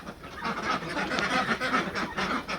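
A flock of three-month-old F1 Pinas ducks on a duck farm near Davao City, continuous overlapping quacking and honking from many birds at mid distance, fairly loud and steady, with no talking.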